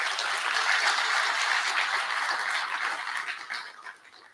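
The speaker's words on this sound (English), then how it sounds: "So please give them an applause to them as well." An audience at the PGDay Lowlands 2025 conference applauds its speakers: dense, steady clapping from a crowd that fills the room for about four seconds, then thins and fades out.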